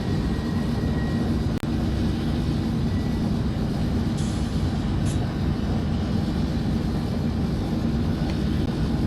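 A train at full throttle in the Open Rails simulator gives a steady, loud, broadband rumbling drone that holds without a break, with a brief click early on.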